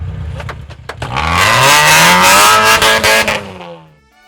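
Cars at a charity motoring event rev hard and accelerate past up close, a loud rising engine roar with tire squeal that swells, holds, then fades away.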